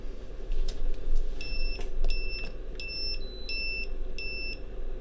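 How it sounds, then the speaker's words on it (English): Electronic lab gear during DC-DC power supply testing gives off a series of five short, clear high-pitched double beeps in a regular rhythm, over a low background hum with faint clicks. "It's not a day in the EEforEveryone lab without just lots of beeping"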